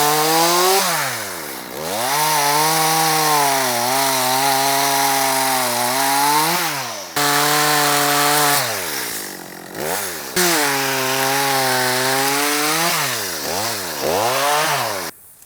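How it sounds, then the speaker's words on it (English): A 200T chainsaw cuts through pecan wood, its engine screaming loud and close in long bursts, pitch sagging and surging as it sputters like it is running out of fuel, with brief drops between cuts. "Have to tweak with a carburetor maybe on that 200T. It keeps sounding like it's running out of gas."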